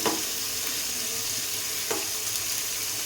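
Food frying in a pan, with a steady close hiss of sizzling and a couple of faint stirring scrapes.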